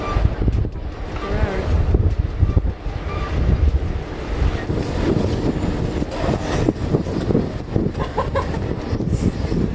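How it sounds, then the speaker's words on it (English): Strong, cold winter wind buffets the microphone on the exposed summit of Mount Kosciuszko, a loud, continuous roaring rush with gusty surges and no pauses. "we've quickly learned that it is way colder and way windier than I had imagined"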